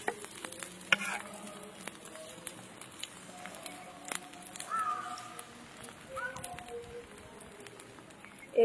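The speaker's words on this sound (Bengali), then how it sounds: "ভালো করে চেপে চেপে একদম ভেজে নিতে হবে লাল লাল করে" Egg paratha frying in a pan while being pressed down, a faint, intermittent sizzle broken by occasional scraping and tapping clicks, with a sharper burst at the very end.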